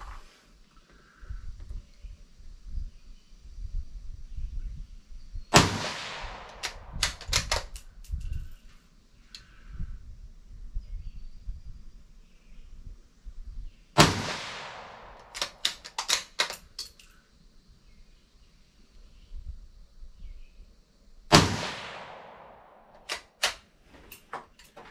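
Shots from a 17 HMR rifle with a dirty barrel ring out outdoors in three groups, each a loud crack followed by several more shots in quick succession, with quiet gaps between the groups.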